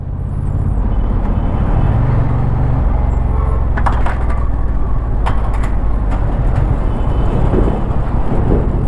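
A Honda Transalp XL750 motorcycle ridden in gravel mode on a Karnataka road, its engine a steady loud drone mixed with rushing wind and road noise, with a few brief higher rattles partway through and no talking.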